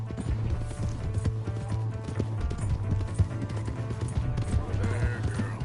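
Horse hooves clip-clop steadily in the Red Dead Redemption 2 video game, running under a constant low game hum and music, with voices talking over the galloping throughout.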